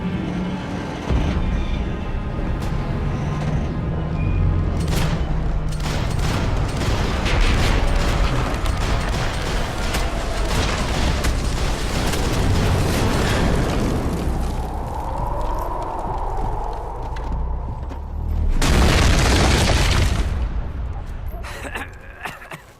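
A loud, sustained shootout in Max Payne 3 during a speedboat battle, with dense gunfire bursts and booms over engine rumble, while characters shout throughout.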